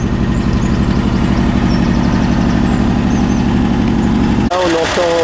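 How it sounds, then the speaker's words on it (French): The turbocharged V8 of a 1981 Bentley Mulsanne idles with a steady, close, low purr, and a voice cuts in over the engine in the final second. "Là on entend ronronner le V8"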